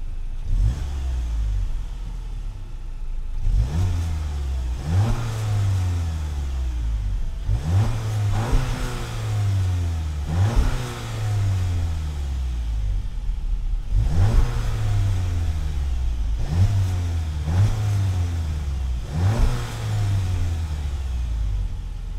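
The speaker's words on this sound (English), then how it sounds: "let's go ahead and listen to how that exhaust sounds" A 2019 Volkswagen Jetta GLI's sporty exhaust revs repeatedly, each blip rising sharply then falling back to a burbling idle, about eight revs spaced a few seconds apart.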